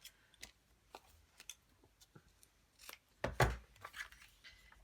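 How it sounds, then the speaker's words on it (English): Rough snips of scissors cutting through paper ephemera, a scattering of soft crisp cuts with one louder, closer snip in the middle and lighter ones after, no talking. "I'm not going to cut it perfectly, but I'm just going to roughly cut."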